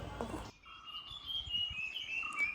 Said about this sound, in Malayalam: കിളിയുടെ ശബ്ദം കേട്ടാ